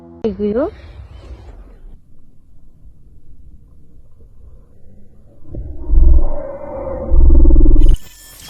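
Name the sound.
mysterious growl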